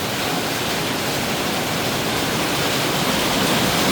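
Heavy rain pours onto a tin roof in Siem Reap, Cambodia, making a dense, loud, unbroken hiss and roar close by, alone without voices.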